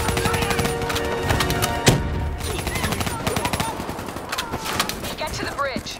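Gunfire in the Call of Duty Black Ops III video game, a sharp loud shot standing out amid steady game sound and a voice speaking, with scattered further shots and impacts throughout.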